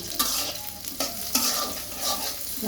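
Onion and garlic frying in a pan for a dried fish dish: a steady loud sizzle with spoon-stirring scrapes at irregular moments, close and with no talking.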